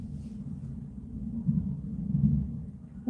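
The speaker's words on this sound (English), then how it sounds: "I haven't heard thunder in ages." Faint, distant thunder rolls low and continuous, rising slightly in the middle before a sharper sound at the very end.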